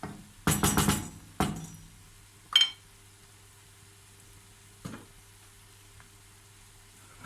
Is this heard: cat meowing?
no